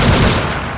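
Loud, dense gunfire in an Iranian first-person shooter boss fight, a brief roaring burst of shots that fills the moment at close range.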